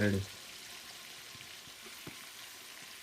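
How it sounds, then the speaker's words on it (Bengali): Chicken pieces frying in oil for biryani, a soft steady sizzle with occasional crackles and a brief clatter at the start, fairly quiet and without talk. "এটা বিরিয়ানির জন্য চিকেন ফ্রাই করা"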